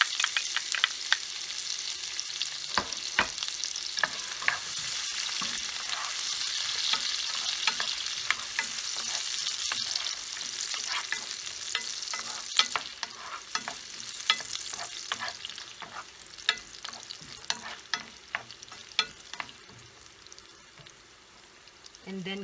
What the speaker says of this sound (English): mainit na yung cooking oil. So I just use 1 tablespoon of oil and 1 tablespoon of butter, and melted them all together. So ilalagay ko na yung onion.